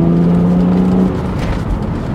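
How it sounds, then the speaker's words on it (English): BMW Z4 engine heard from inside the cabin with a sound generator fitted, a steady loud drone with a sustained low tone that fades partway through, no talking. "I forgot how brutal but glorious it sounds in the cabin."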